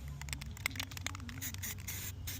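Krylon Fusion Gloss Hot Pink spray paint hisses steadily from the can outdoors in light wind, with brief pauses and small rattling scrapes as coats are applied close by, with no voices.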